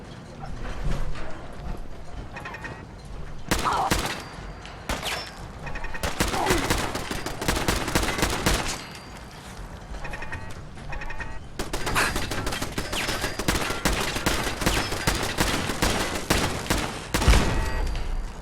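Automated turrets in Fallout 4 fire in dense, rapid bursts of clattering gunfire, loud and close, broken by brief pauses between volleys.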